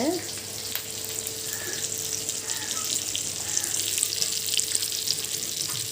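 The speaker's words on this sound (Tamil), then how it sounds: "எங்கே மீன் பொரியல் போயிட்டு இருக்குது" Fish fries in a pan with a loud, steady, broadband sizzle that holds evenly throughout, close and continuous, with faint background sounds beneath.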